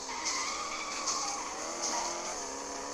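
Tires skid and squeal in a car racing video game as a car slides down a ramp, a steady high-pitched screech with engine noise underneath that lasts throughout and swells in several loud bursts.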